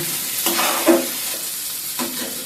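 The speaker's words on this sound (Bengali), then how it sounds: "রসুন কুচি আর মরিচ কুচি দিয়ে এবারে সব উপকরণগুলোকে ভালো মতো ভেজে নেব" Chopped garlic and chilli frying with other ingredients in a pan over medium-low heat, a low sizzle punctuated by a few spoon stirs and scrapes, close up and without speech.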